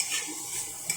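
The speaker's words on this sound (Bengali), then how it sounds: "আমি এটাকে একটু ভাজা ভাজা করে নেব।" Chicken with carrot and onion stir-fries in a pan, a steady close hiss of frying with faint utensil scrapes and one small clink near the end.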